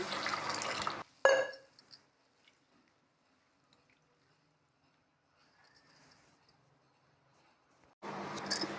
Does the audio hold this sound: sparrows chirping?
no